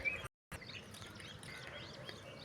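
Birds chirp faintly near a house surrounded by trees, with small scattered calls over a low outdoor hiss and a brief dropout near the start.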